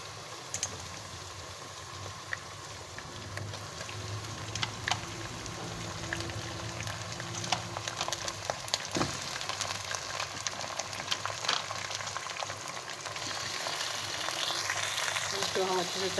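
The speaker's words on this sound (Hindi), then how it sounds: "इसको हम अच्छे से चला लेंगे, और इसका कलर चेंज होने तक इसको भून लेंगे अच्छे से।" Chicken stirred and fried with golden onions in a pan: a continuous close sizzle with spatula scrapes and occasional clinks throughout, growing slightly louder toward the end.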